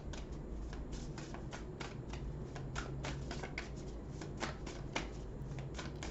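Oracle cards shuffled steadily by hand, a continuous fast riffling patter of soft card slaps, close and fairly quiet, with no talking.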